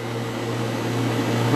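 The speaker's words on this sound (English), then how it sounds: "Now it's doing a vacuum leak check." An R1234YF refrigerant recovery machine runs a vacuum leak check, giving a steady loud mechanical hum with a constant low drone and broadband whir that holds level throughout.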